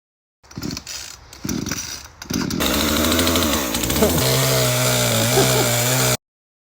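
A chainsaw roars loudly and continuously, its engine pitch shifting as it bites into wood felling trees, after a few short revving bursts at the start.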